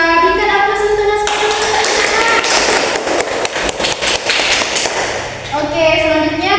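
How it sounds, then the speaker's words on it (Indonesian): Classroom applause for a student: a burst of clapping from many hands lasting several seconds, with tonal voice-like sounds before and after it. "Berikan aplaus untuk Naswa."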